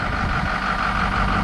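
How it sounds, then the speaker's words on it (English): A 2007 Ford 6.0 diesel engine idles at around 720 rpm with the turbo plugged, giving a loud, steady, close-up drone with no pauses. "Right now the turbo is plugged in, It's idling about 725, 720."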